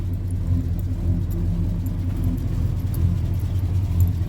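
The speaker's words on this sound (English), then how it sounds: "Warming up the truck." A truck engine warms up at idle, giving a steady, close low rumble that holds even throughout, with faint jingling on top.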